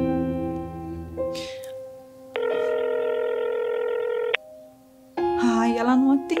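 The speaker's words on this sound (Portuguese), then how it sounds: "Eu vou ligar pra Kel." Phone call tones ringing with no answer, a steady electronic ringback tone held for about two seconds amid short beeps and tonal sequences, close and clear, with brief voices at the start and end.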